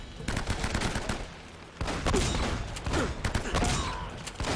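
Enemy gunfire in Uncharted: Drake's Fortune crackles in rapid bursts, dense volleys of shots with short pauses between, loud and close in a game firefight.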